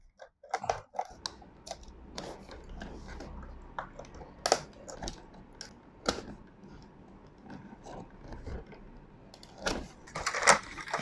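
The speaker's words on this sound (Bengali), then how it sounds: "আমরা এখন এটিকে আনপ্যাক করব এবং দেখব এটার মধ্যে কি আছে।" Jumpflash KIT-04LM vlogging kit package being unpacked, quiet scattered crinkles, taps and rustles of packaging handled close up, irregular and faint, with no talk.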